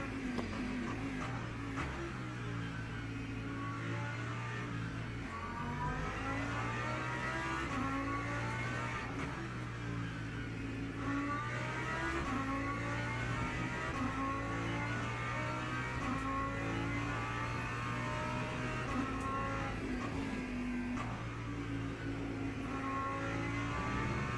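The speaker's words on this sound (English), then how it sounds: "I like the V10 noises." A V10 race car in the Le Mans Ultimate video game roars continuously at high revs, its pitch rising and falling through gear changes over a steady, loud drone.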